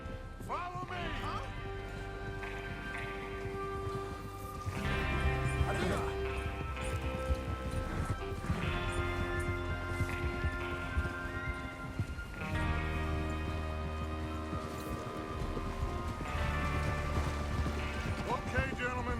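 Horses clip-clop along in Red Dead Redemption 2, a steady hoofbeat rhythm running under a thick orchestral score, with occasional whinnies mixed into the busy game soundscape.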